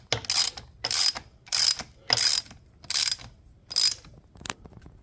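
A ratchet wrench snugs a motor mount bolt on a Priority Current ebike, giving six quick, even bursts of close, crisp clicking with short pauses between them, then one last brief click, and no talking.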